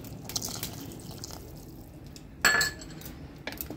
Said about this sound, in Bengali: কর্নফ্লাওয়ারটা দিয়ে ভালোভাবে নেড়ে দিতে হবে, নাহলে জমে যাবে এক জায়গায়।